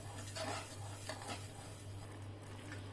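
A spoon stirs sugar syrup in a pan over low heat, giving a few soft scrapes and light clinks against the metal over a steady low background hum.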